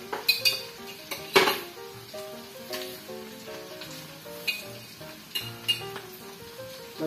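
Pork for Bicol Express is stirred in a pan with a utensil, giving repeated clinks and scrapes of metal on the pan over a light sizzle.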